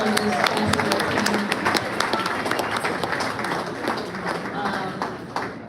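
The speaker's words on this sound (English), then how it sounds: "Please clap it up for them." Guests at a school sports awards dinner clap for the basketball team's parents, a sustained, full round of applause with some voices and cheers mixed in, fading slightly toward the end.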